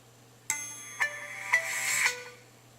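Samsung Galaxy S5 phone powering on, playing a short bright chiming startup tune of several quick rising tones that swell and then fade, fairly quiet against a steady low hum.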